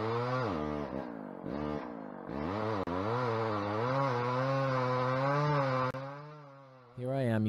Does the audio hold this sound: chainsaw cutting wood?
yes